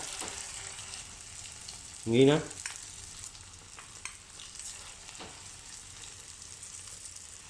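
Thai enoki mushroom fritters, flattened by hand, fry quietly in a pan with a soft, continuous sizzle. A short spoken phrase is heard early on.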